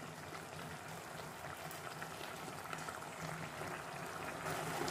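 A sauce of salted, dried tilapia simmers in a pot, giving a steady, soft bubbling and gentle liquid churn that continues evenly throughout, with no voices.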